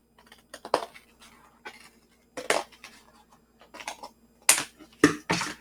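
A Dollar Tree cardboard box having its ends cut off, heard as a series of sharp, close cracks and snips in irregular bursts with quiet gaps between them.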